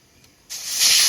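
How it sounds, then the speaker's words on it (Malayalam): After a brief near-silence, a pressure cooker abruptly releases a loud, rushing hiss of steam that swells and holds steady to the end. "അപ്പോൾ കുക്കർ ഒരു വിസിൽ വന്നിട്ടുണ്ട് കേട്ടോ"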